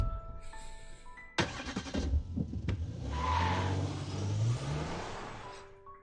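A car in the Blue Archive video game starts off with a sharp thump, then the engine revs and accelerates steadily with a rising whine, heard alone and moderately loud.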